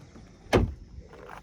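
Rear door of a 2022 Hyundai IONIQ 5 electric car opening, a single sharp latch click and thump followed by faint rustling.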